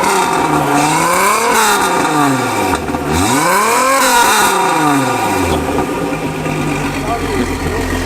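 A Peugeot car engine revs up and down in repeated sweeps, loud and close, with its pitch climbing and falling several times before it settles toward idle. Voices are faintly present in the street setting.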